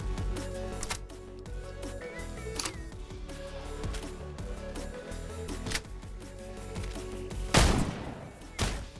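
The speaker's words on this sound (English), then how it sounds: "The gunfire and bullets sound nice and crispy just like in the original Contractors" Gunfire from the VR shooter Contractors Showdown: crisp, sharp shots in irregular bursts over a low background, with a few louder blasts standing out late in the sequence.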